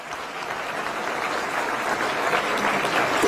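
Audience at a public event in Delhi with government ministers applauding steadily, a dense wash of many hands clapping that swells slightly louder toward the end.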